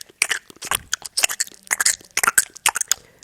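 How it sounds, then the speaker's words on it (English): Gum being chewed close to the microphone, a run of wet, crackly mouth clicks and squelches in an irregular rhythm for a few seconds, alone with no speech. "I was chewing gum"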